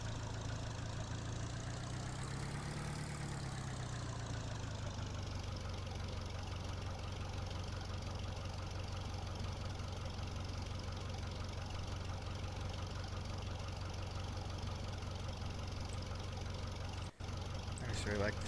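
A tractor engine idles in the video game Farming Simulator 2013, a steady low rumbling drone that holds evenly throughout, with a slight swell near the start.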